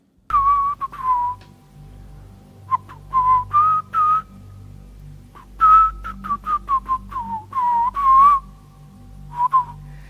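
Someone whistles a melody alone, with bright, close notes in clustered phrases, some quick runs and short breaks, over a steady low background hum.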